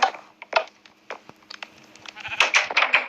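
Sheep bleating in the Minecraft video game, a quick series of nasal bleats and clicks in bursts, loudest near the end, with no talk.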